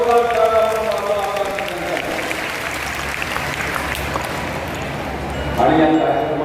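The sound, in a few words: loud applause from women's rally crowd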